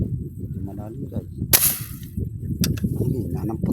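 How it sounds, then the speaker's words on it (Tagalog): A weak, sharp bang cracks out once during fishing from a boat, a short loud snap in the middle of ongoing talk, followed by a lighter second crack. "Hina ng putok."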